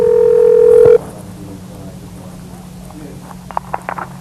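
A telephone dial tone plays steadily for about a second before a live call, then cuts off, leaving quiet line hiss and a few faint clicks or beeps near the end.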